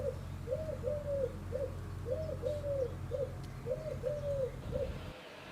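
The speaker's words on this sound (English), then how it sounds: "What's that annoying bird? It's got a distinctive call." A dove or pigeon cooing repeatedly in a distinctive rhythmic phrase, heard outdoors over a low steady hum near a car being repaired, with no talk.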